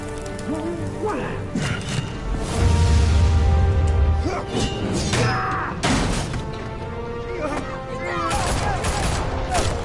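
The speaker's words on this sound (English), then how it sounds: "Why do they shoot at me every time?" Bursts of gunfire in the Batman Telltale Series video game, scattered shots and mechanical clatter mixed with music and game effects, with a low rumble in the middle.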